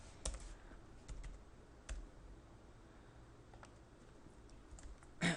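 Quiet typing on a computer keyboard while entering a name into a Java program, with a few scattered keystrokes and clicks under low room noise.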